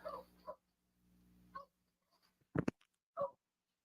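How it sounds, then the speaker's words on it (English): A dog barks and whimpers in short, separate bursts with quiet gaps between them, fairly close and alone without talk. "so the dog's going to sit there and bark"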